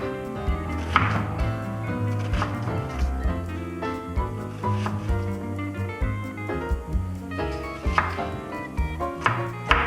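Knife chopping onion on a board for guacamole, a steady run of close, crisp cuts with a rhythmic tapping pulse over faint background.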